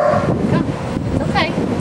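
A wary young female dog gives close, high whimpers and short yipping barks in quick succession, with a person speaking over them outdoors.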